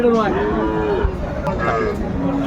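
An improved-breed dairy cow with her calf lows in a long, drawn-out moo at the Aftabganj cattle market in Dinajpur, close and loud with faint market voices behind.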